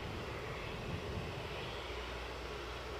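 An airplane landing on the runway at Edinburgh airport, its engines a steady, even roar that holds at one moderate level for the whole stretch.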